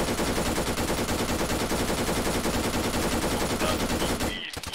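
Sustained automatic gunfire in a tense armed confrontation at a house, a dense, continuous rattle of rapid shots at full loudness that cuts off abruptly near the end.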